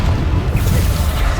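A Bombarda spell blast from the Hogwarts Legacy game goes off with a loud, close, dense boom that rolls on without pause, with no talking over it.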